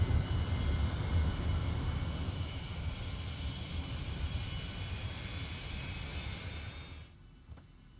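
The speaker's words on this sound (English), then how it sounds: "the left engine is still spooling up" Su-25 attack jet in the DCS flight simulator with its engines spooling up, a steady whining turbine roar with a high tone that holds before cutting off sharply near the end.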